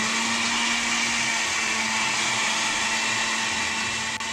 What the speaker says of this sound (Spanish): voy a poner aquí en la licuadora con este crema de leche y queso crema y un poquito de leche